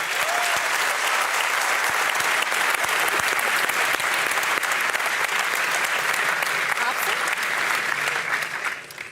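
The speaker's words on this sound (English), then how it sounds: "thanks for everybody cheering." An audience at a gaming Q&A event applauds and cheers steadily for about nine seconds, a dense, loud wash of clapping that fades slightly at the end.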